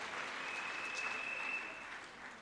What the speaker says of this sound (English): Ms. Ramudike Rialeleboa, can we also give her a big round of applause?